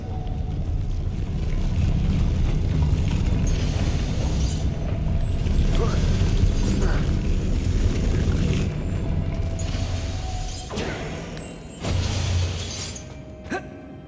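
A Depulso spell cast in the Hogwarts Legacy game, a loud sustained burst of shattering, whooshing magical effect with rumbling low end and sharp transients, alongside other game sounds with no talk.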